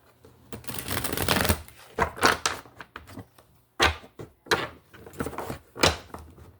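Oracle cards are shuffled and drawn by hand, heard close up as several quick, papery bursts of riffling and slapping separated by short pauses.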